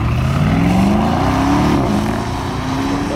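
A new Mercedes SL 63 AMG in comfort mode with the exhaust open accelerates hard, its deep exhaust note climbing through a gear, dropping at the shift, then rising again, close and loud.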